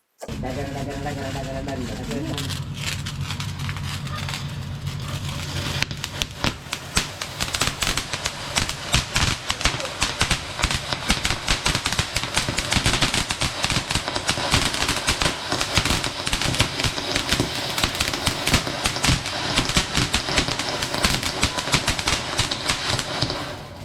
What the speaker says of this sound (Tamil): இப்போ நம்ம ட்ரை கலர்ல இருக்கக்கூடிய ஃபவுண்டைன் தான் வெடிச்சு பார்க்க போறோம்